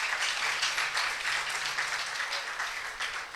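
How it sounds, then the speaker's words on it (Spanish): A church congregation at a Sunday service breaks into loud sustained applause, dense clapping from many hands rising and slowly easing over several seconds. "Si le va a dar un fuerte aplauso al Señor,"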